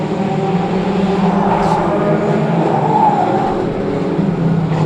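Micro banger race cars circling the Cowdenbeath Racewall oval, several engines droning and rising and falling together at varying speeds, steady and loud throughout with a busy pack sound.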